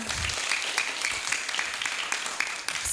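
Audience applause at a primary school event in Gunungsitoli, steady dense clapping from a crowd of children and adults filling the whole stretch, fairly distant with no talking over it.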